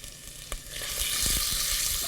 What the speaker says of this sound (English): Turn this down because I hear the sizzle.